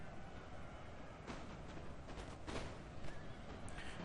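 Cavalry horses in the video game Napoleon: Total War neigh and clop during a 2v2 online tournament battle, faint and somewhat distant over a busy background of battle noise.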